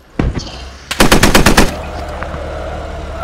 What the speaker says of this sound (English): I thought that was enemy shooting you